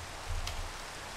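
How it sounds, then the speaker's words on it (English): Rain falling in a video game, a uniform broadband hiss with a faint low rumble and one brief crackling patter partway through, heard alone. "I need like an anti-rain machine."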